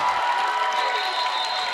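A high-school volleyball crowd at a Division 3 sectional final cheers and applauds on its feet, a dense, loud, continuous roar of shouting and clapping filling the gym without a break.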